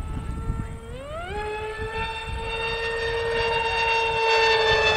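A BadAss 2826-1360KV brushless motor spins up with a rising whine that climbs quickly, then holds a steady, loud, multi-toned high-speed scream that grows slightly louder toward the end.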